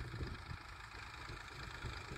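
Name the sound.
Massey tractor engine idling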